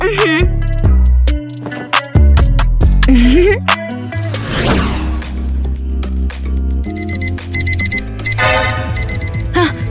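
A loud, cluttered electronic alarm clock blares with warbling tones and jangling ringing that shifts in pattern, continuous and close throughout.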